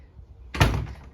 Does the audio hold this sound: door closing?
yes